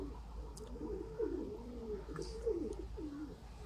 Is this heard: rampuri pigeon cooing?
yes